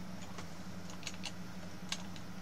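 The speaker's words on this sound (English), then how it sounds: "I'm just hitting enter on the keyboard when I'm happy" Computer keyboard keys, including the enter key, tapped several times in quick irregular clicks, close and fairly faint over a low steady hum.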